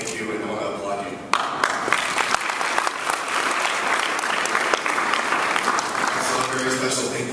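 Dense applause from an audience at a community summit in Santa Ana breaks out suddenly and holds as a steady, loud wash of many hands clapping, with voices mixed in underneath.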